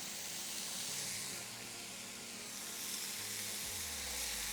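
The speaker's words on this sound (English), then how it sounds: "And it's just gonna steam like that." Bao buns steaming in a covered pan give off a steady, even hiss of steam with a faint sizzle underneath, continuous and unbroken throughout.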